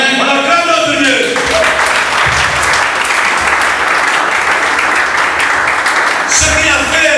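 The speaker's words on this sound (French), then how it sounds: "On acclame notre Dieu." A church congregation applauds and acclaims God with loud, sustained clapping throughout, voices rising through the crowd at the start and again near the end.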